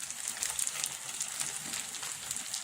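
Freshly prepared noodles frying in a skillet over just-above-medium heat, giving a steady, fairly faint crackling sizzle with fine hissing throughout and no speech.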